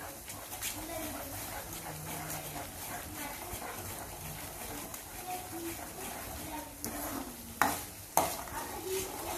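A spoon scrapes and stirs garam masala through sizzling oil in a pan for cashew curry, soft frying hiss under repeated stirring strokes, ending with a couple of sharp knocks of the spoon against the pan.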